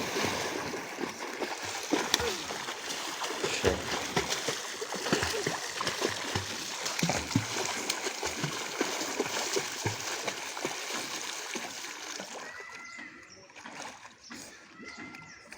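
A young boy learning to swim in a village pond churns the water, producing steady irregular splashing and sloshing close by, with voices in the background and the splashing easing off near the end.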